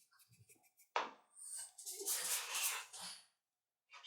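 A small dog snorts and snuffles wetly in a gurgling, clogged-drain way, a sharp burst followed by a few seconds of rough, bubbling breaths close by, with quiet gaps around it.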